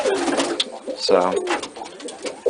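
Satinette pigeons cooing inside a loft, a couple of loud close coos with rolling throaty pulses, while a person speaks briefly nearby.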